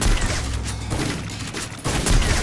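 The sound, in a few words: gunfire in the video game Free Fire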